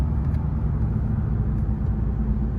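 A lifted Ford F-250 Lariat diesel truck driving, with a steady low engine and road rumble heard from inside the cab, constant and unbroken.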